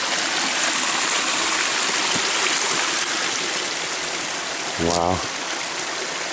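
A creek runs steadily over gravel past small check dams, a close, continuous rushing wash, with one brief exclaimed word near the end.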